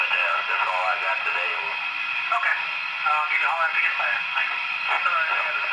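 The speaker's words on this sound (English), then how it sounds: "Radio sound." Band-limited radio chatter from an HO scale Union Pacific FEF-3 Northern locomotive's sound system, with tinny, crackly voices talking continuously at steady volume for the whole stretch.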